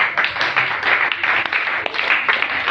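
A church congregation claps for Jesus, a dense sustained burst of many hands applauding together, loud and close for several seconds with no voices over it.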